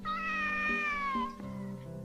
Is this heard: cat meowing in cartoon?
yes